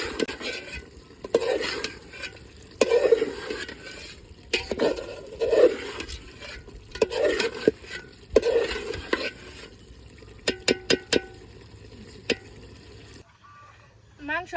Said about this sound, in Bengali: মাংস তেল কষে নিছি